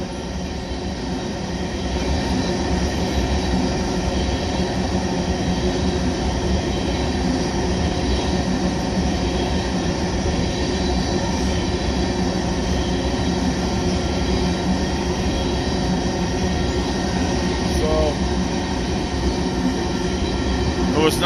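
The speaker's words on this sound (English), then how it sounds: "An oil train." A Union Pacific oil train passing close by, a steady loud rumble of tank cars with wheel clatter and occasional squeal sustained throughout.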